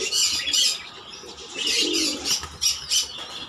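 High flying Giribaz pigeons coo and flap their wings near a loft, with bursts of wingbeats and chirps over a soft, low coo, fairly close and without talk.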